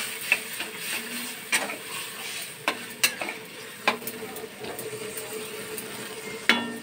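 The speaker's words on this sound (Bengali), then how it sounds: "এবার আমি জল দিয়ে দিলাম" Sautéed vegetables sizzle in a pan after water goes in, with a moderate hiss running throughout and several sharp clicks and scrapes of a utensil against the pan.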